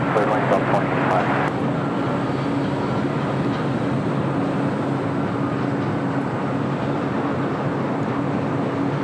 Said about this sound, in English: United 777-200 heading to Dulles now, starting to taxi down to taxiway Bravo, heading to 25 right